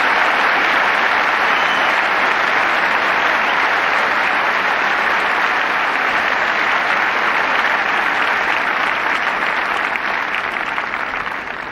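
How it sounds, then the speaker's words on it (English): Wimbledon crowd applauding on Centre Court during a 1985 men's third-round tennis match, sustained broad clapping from a large audience, loud and even throughout with no voices on top. "And Becker turning to applaud his opponent"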